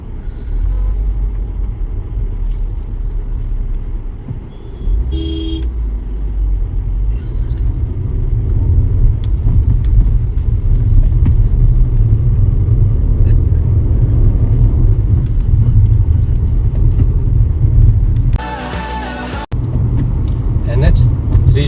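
Steady low road rumble from a car cruising on the Dehradun Expressway through a wildlife corridor on NH 307, heard from inside with constant tyre and engine drone and someone talking over it.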